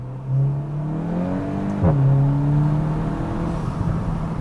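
A VW MK8 GTI with an AWE Track Edition exhaust accelerates hard in second gear, its engine note rising steadily loud and close, with a brief shift-like dip and blip midway before the drone climbs again.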